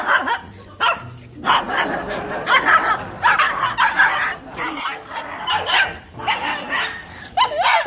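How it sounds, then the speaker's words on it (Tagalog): Several dogs bark in rapid, overlapping bursts with yips and whimpers, close and persistent through the whole stretch, while a voice murmurs faintly beneath. "Ito may aso dito."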